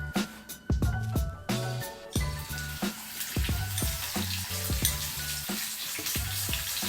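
Mowa fish sizzling and crackling in hot oil in a wok, a steady fry broken by brief scraping and stirring clatter.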